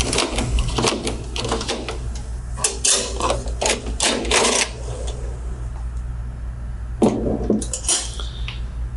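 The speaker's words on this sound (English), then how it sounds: "So let's move the toner cartridges." Toner cartridges are moved inside a Brother QL-300 label printer, producing repeated plastic clacks, scrapes and knocks at close range in irregular bursts over a steady low hum, with no talking.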